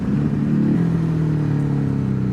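Ducati Hypermotard exhaust drones while riding, a steady mid-pitched engine note that eases slightly partway through, heard close and continuous without talk.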